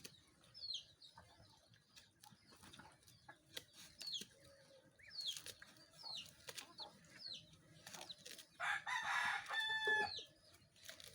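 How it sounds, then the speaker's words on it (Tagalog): Chickens on a farm eating bananas, clucking and crowing at close range with scattered calls, a burst of wing flapping and louder squawks near the end. "Yan po mga manok na nasa wakan."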